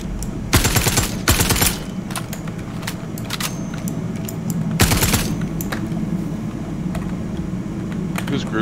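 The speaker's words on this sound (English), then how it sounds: "oh, who's shooting?" Gunfire in Star Citizen, several loud rapid bursts of automatic shots early on and another burst midway, over a steady rumbling background with people chatting.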